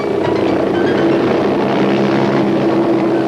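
Helicopter flying over isolated terrain, a loud continuous rotor and engine drone with a steady hum, close and unbroken throughout, with no voices.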